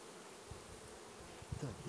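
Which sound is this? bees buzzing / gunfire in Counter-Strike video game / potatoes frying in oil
bees buzzing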